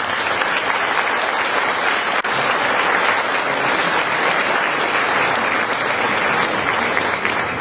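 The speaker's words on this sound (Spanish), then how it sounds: "Lo recibimos con un fuerte aplauso." A loud, continuous round of applause fills a conference hall as the audience welcomes a speaker at an event on evangelization and culture in Mexico City, unbroken and steady from start to finish.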